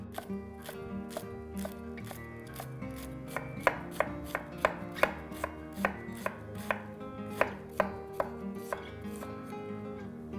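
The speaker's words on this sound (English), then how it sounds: "thinly slice the greens along with the red cabbage" A knife thinly slices kale and red cabbage on a cutting board, producing a brisk run of crisp, evenly spaced chops up close.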